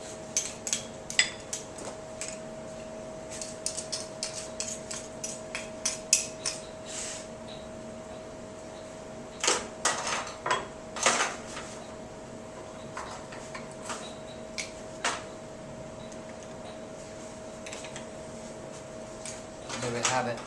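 Fresh oysters are shucked with a knife in a restaurant kitchen, giving scattered close clicks, scrapes and shell taps in irregular bursts over a faint steady hum.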